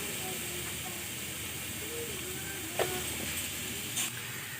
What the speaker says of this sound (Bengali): হালকা হালকা ভাজা হয়ে এসছে